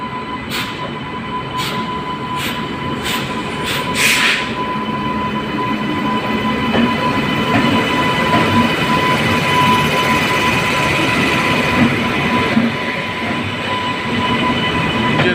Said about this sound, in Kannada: ಯಾವುದೋ ಒಂದು ಟ್ರೈನು ಪ್ಲ್ಯಾಟ್ಫಾರಮ್ 10 ಬರ್ತಿದೆ